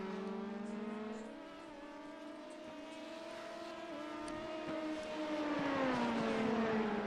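LMP prototype race cars qualifying at Watkins Glen in a racing game give off a high engine whine whose pitch climbs and drops through gear changes, with cars sweeping past one after another, loud and continuous.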